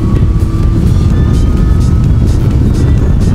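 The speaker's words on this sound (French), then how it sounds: "Ok, là j'accélère." A Yamaha Niken three-wheeled motorcycle accelerating, its engine a loud, steady low roar with wind noise, heard close and continuous throughout.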